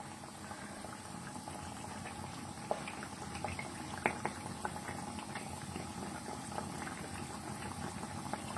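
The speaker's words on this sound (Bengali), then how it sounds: "বেশ লালচে করে এগুলো ভাজতে হবে, সেক্ষেত্রে একটুখানি টাইম লাগবে" Poa pitha fritters made with jaggery frying in hot oil, giving a steady close bubbling sizzle with scattered soft pops and crackles throughout, no voices.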